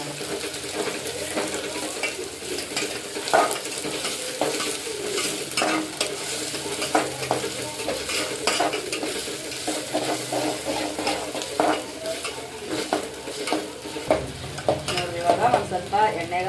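Ingredients fry in oil in a pan in a home kitchen before tomatoes go in, a continuous sizzle broken by frequent scraping and clattering stirs of a spatula against the pan.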